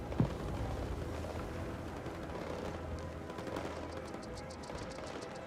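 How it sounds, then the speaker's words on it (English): Continuous distant gunfire in a video game crackles in a steady barrage, with bursts of rapid shots blending into a dense background roar. "Oh, I hear lots of gunfire."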